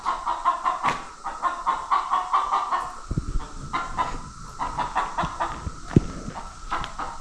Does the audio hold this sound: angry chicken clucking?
yes